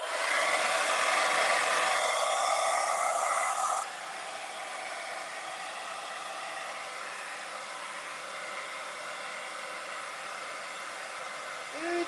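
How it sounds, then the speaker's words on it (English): A blow dryer blasts a constant loud airy roar over a Mardi Gras landscape painting to dry the paint. The tone drops partway through as the dryer is angled or switched to a lower setting, then runs on steadily. "Let me hit it with the blow dryer so I can add some glitter."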